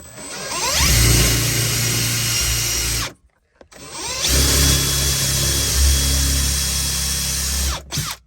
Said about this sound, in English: I wanted to drill it out just a little bit smaller than that